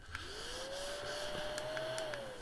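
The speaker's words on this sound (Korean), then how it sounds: "책상 청소기예요." Small desk vacuum cleaner running steadily close by, a continuous whirring hum with a motor tone that rises slightly and holds, with faint clicks, no talking.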